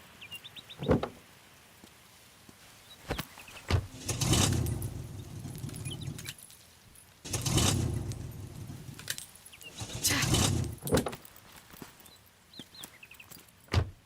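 A car engine in a Tamil movie scene struggling to start, with three separate cranking attempts that each last about a second and fail to catch, separated by clicks and quiet pauses.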